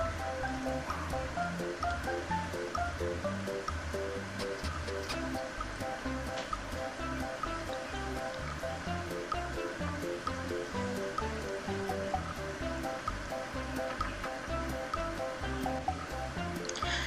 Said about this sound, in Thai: ทอดไปเรื่อยๆ จนกว่า เนื้อหมูของเราจะสุกสีสวยแล้วก็กรอบดีนะคะ